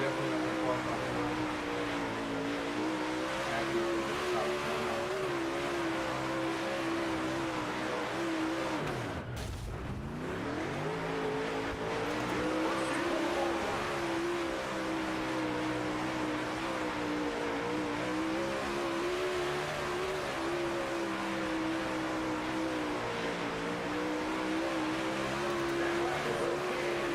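Race car engine droning steadily through several laps of a racing video game, with a brief dip and swoosh near the middle as the car passes or brakes, otherwise constant and loud.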